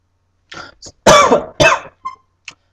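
A person coughs and clears their throat in several harsh, close bursts separated by short silences, the middle two loudest.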